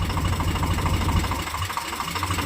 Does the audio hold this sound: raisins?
no